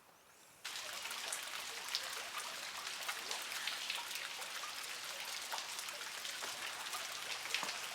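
Hard rain falls outdoors, starting abruptly and then holding as a dense, constant patter of drops that stays at the same level to the end.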